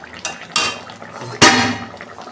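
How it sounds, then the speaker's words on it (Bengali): A lid comes off a pot of fish curry cooked with greens stalks, potato and eggplant, giving a few close metallic clanks, the last the loudest, followed by a soft ringing fade. "ঢাকনা খুলছি।"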